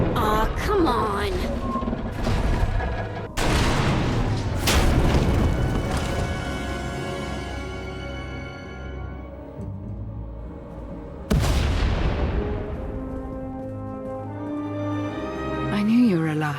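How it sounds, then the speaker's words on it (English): Explosions in the Star Wars: The Old Republic video game, several heavy booming blasts with long rumbling decays, loud and close, separated by quieter stretches of ringing debris and ambient game sound. "We heard explosions."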